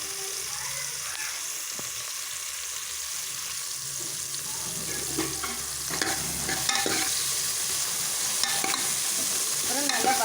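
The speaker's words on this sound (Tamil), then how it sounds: "வதக்கி விடுங்க" Spices sautéed in a pan for jeera rasam with pepper and asafoetida, a soft sizzle under scraping and stirring strokes that grow busier and louder toward the end, with no voices.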